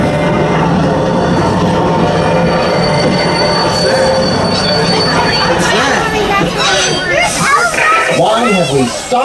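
A Polar Express excursion train in Whippany, New Jersey, during a November snowstorm: loud, continuous rumble with shrill, wavering wheel squeals rising toward the end, heard close up with voices under it.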